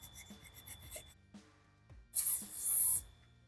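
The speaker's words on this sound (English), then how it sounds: "So make sure you clean it with a fine sandpaper." Fine sandpaper rubs a BMW X3 drive shaft where an old center support bearing was stuck, short rasping strokes in a quick rhythm, then a louder sustained scrubbing pass, close and alone.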